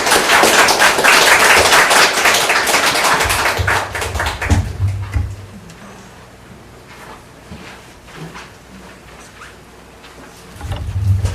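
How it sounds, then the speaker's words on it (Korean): A church congregation applauds warmly during a relocation worship service, a dense burst of clapping that fills the first few seconds and then fades into quieter room sound. "여러분 박수로 한번 축하해 주시면 감사하겠습니다."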